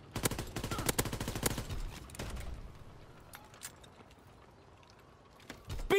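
Rapid bursts of gunfire aimed at a tank in a WW2 video game, a dense rattling volley for the first two seconds, then scattered single shots over quiet background, with a final loud burst at the end.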